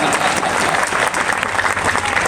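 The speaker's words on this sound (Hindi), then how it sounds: "बजा ताली बजा ताली बजा" An audience claps steadily and densely throughout, a full crowd applauding at a Jain Siddh Chakra Mahamandal Vidhan religious gathering in Katni, loud and continuous with no speech over it.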